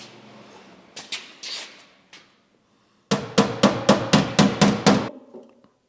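Metal car body panel of a Mitsubishi Lancer Evo 8 is struck by a hammer, first a few scattered blows, then a quick series of about nine sharp, ringing hits close by.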